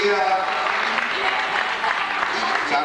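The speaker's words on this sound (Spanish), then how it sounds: "El aplauso nuevamente para ella" At a pageant electing a new queen, an audience applauds steadily at moderate loudness while a presenter's voice carries over the clapping.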